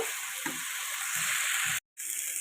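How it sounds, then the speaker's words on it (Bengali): Eggplant and greens cook uncovered in a pan, a continuous hiss of frying with a few soft stirring scrapes; the sound cuts out briefly near the end. "তা এখন আর ঢাকা দেব না, এইভাবেই নেড়ে চেড়ে রান্না করে নেব।"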